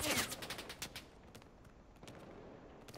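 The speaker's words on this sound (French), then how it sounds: "Ça, on dirait la mitrailleuse." Machine gun fire in a video game heard at a distance: a quick flurry of faint, rapid shots at first, then scattered softer distant reports fading out.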